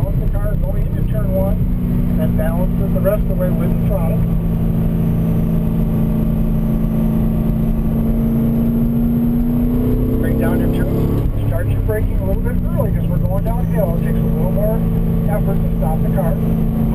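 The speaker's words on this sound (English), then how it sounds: "Tarik, use the brakes to help the car turn, balancing it as we come through the apex of 10" A car on a race track, its engine holding a steady drone that swells and shifts in pitch as it works through a corner, heard close up from inside, continuous and loud.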